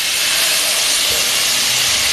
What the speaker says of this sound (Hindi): प्याज लाल हो गई, मैं इसमें यखनी शामिल कर रही हूँ थोड़ी